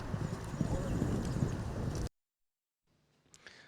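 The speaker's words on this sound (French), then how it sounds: "Le Champ de Mars est prêt à vibrer une nouvelle fois au son des sabots." Horse hooves clip-clop at the Champ de Mars racecourse ahead of a race day, a steady stream of hoofbeats under strong wind noise that cuts off abruptly, leaving near silence with a faint sound at the end.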